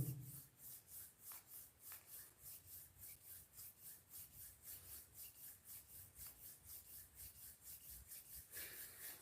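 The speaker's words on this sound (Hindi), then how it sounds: "जो बाहर आना चाहते हैं वो 2-3 गहरी सांस छोड़ें, हाथों को रब करें" Palms rub briskly together during a guided meditation, making a fast, even back-and-forth swishing friction sound, about two strokes per second, close and steady for several seconds with no talk.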